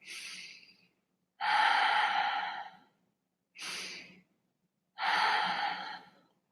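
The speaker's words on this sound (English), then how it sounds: "Just long, slow, deep breaths." Long, slow, deep breaths alternate close to the mic, with airy inhales and exhales in four separate drawn-out pushes and silence between them.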